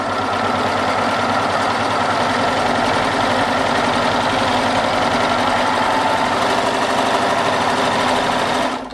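A Babylock Euphoria coverstitch machine running fast and steady as it chains off, a loud continuous mechanical whirring with rapid rhythmic clatter that cuts out abruptly at the end.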